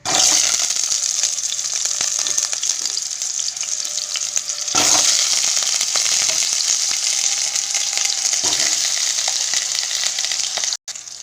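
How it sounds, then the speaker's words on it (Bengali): Potatoes fry in hot oil, giving a loud, dense, continuous sizzle that holds steady, with a brief near-silent drop at about four and a half seconds and another near the end. "আমি আলুগুলো একটু ভেজে নেব।"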